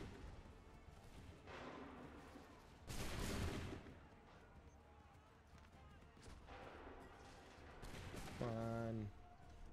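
Soldiers fire a massed musket volley in the video game Assassin's Creed III, a loud burst of overlapping shots partway through amid battlefield noise and faint commands, with a brief ringing tone near the end.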